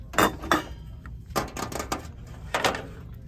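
Metal pizza pans clank and rattle as they are handled in a store, several sharp clattering bursts spaced irregularly, close by.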